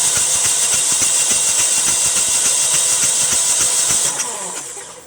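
Generac Honeywell home standby generator, model 60341, with an RPM sense loss fault, its engine running loud and close with a rhythmic low thumping under a bright mechanical whine that eases off near the end.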